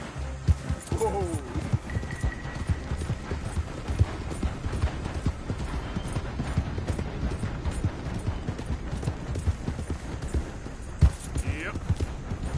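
Horse hooves clip-clop at a steady trotting rhythm in Red Dead Redemption 2, close and clear, with occasional tack rattles and a brief whinny, while a rider's voice talks over them.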